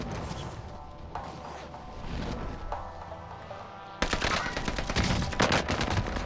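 Rapid automatic gunfire from the video game Call of Duty Warzone, bursts of shots growing louder and denser in the final seconds, with no talk over it.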